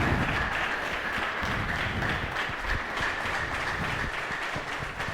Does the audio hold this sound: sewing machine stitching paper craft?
no